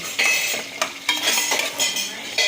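Onions frying in oil and ghee for Dindigul biryani, hissing and sizzling while a spoon scrapes and stirs the pan in repeated strokes, close and fairly loud.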